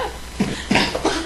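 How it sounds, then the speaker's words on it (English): A single person coughs a few times in a broadcast studio, short close bursts one after another. "Ladies do not cough"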